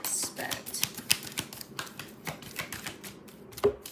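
Tarot cards being shuffled by hand, a quick run of crisp riffling snaps and flutters, close and moderately loud, over faint background noise.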